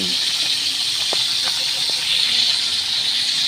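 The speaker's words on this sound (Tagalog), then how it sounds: "Magprito muna tayo." Food frying in a pan, a steady loud sizzling hiss with a few brief pops and clicks, close and constant throughout.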